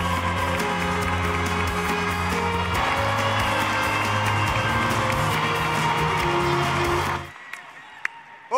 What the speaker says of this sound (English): Oofta, what a crowd.